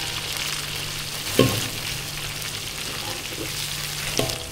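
Food sizzles steadily in hot oil, a constant crackling hiss with a couple of soft clinks of a utensil against the pan.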